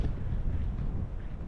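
Low, steady wind rumble against the microphone, fairly quiet and constant for a brief moment.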